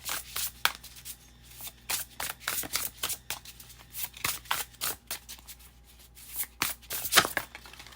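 Oracle cards are shuffled close up, a series of quick riffling and slapping bursts repeating irregularly, with no talking.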